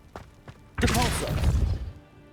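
A Depulso force spell cast in the Hogwarts Legacy video game bursts out as a single loud whooshing thud with a swirling, shimmering tail that fades over about a second, following a couple of faint taps.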